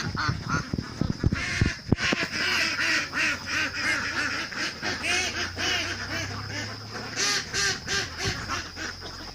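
A flock of 13-week-old laying ducks quacks continuously and loudly up close, a busy overlapping chorus of calls after some brief clattering at the start.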